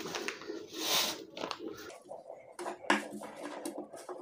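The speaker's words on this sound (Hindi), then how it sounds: "हमने पोटेशियम नाइट्रेट और शुगर के पाउडर को एक साथ इस बॉल में मिला लेते हैं।" Potassium nitrate and sugar powder being stirred together in a bowl, soft scraping and clinking of the utensil against the bowl in quiet, irregular strokes, fairly close, with a voice speaking at times.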